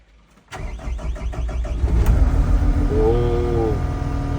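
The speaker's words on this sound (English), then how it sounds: "Turn it on." A Takeuchi TL8 compact track loader's engine cranks briefly and catches, then settles into a steady, loud idle close by, with faint voices in the background.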